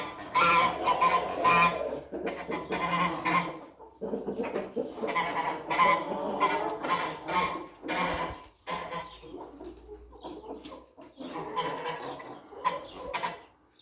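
Geese at their backyard pool calling in bursts of loud, close honks and cackles, with a few brief pauses between the outbursts.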